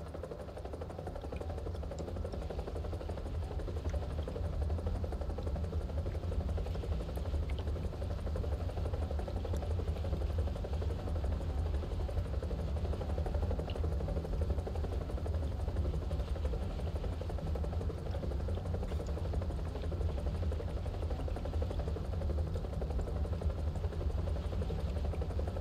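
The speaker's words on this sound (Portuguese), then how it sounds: "Tem que tomar cuidado que esse helicóptero é uma batata, Wanda." A helicopter drones continuously and loudly throughout a battle-mode match in a video game, a steady low rotor and engine rumble with no breaks.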